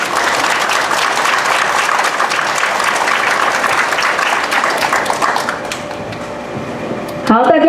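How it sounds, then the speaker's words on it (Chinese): Applause fills a hall at a kindergarten graduation ceremony: dense, sustained clapping from a large audience that gradually thins out, followed by a brief voice near the end. "我们要掌声鼓励。"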